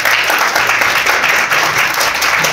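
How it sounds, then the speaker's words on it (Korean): An audience gives loud, dense applause to welcome a speaker at a Korean community sponsorship event, with steady clapping throughout and no talk over it. "박수로 맞아주시기 바랍니다."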